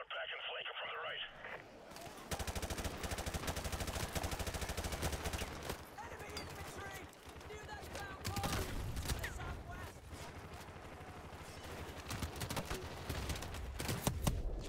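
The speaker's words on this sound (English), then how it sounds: "Whoever is shooting me is not playing at all." Gunfire in Call of Duty Modern Warfare, dense machine-gun bursts and rapid shots crackling continuously at close range, layered with battle noise while voices talk over the action.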